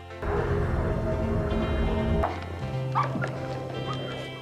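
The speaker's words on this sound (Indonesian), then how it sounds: "Jack mendengar anjing liar menggonggong" Wild dogs bark at night, loud and close, in a few sharp yelps over a dense low rumble that drops away midway, followed by fainter scattered barks and whimpers.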